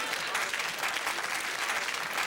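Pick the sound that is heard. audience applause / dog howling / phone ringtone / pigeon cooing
audience applause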